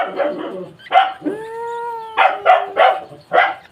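A dog barks several times close by, sharp and loud, with a drawn-out howl between the barks.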